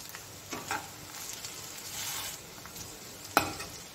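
Onions fry in a pan with a soft, constant sizzle, a few brief stirring scrapes and one sharper clink near the end, quiet and close.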